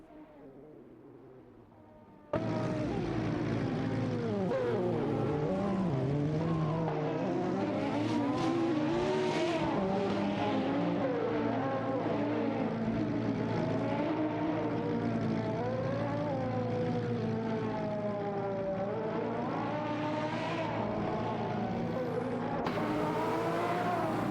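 Race cars in an AI racing video game roar in after a short quiet lead-in, engines rising and falling through shifts in a dense, continuous loud whine, several cars overlapping with no voices.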